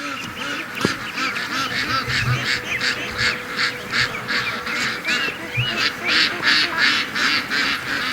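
A flock of ducks is herded along, giving a dense run of rhythmic quacks and honks close by with steady rustling beneath, plus a couple of brief thumps.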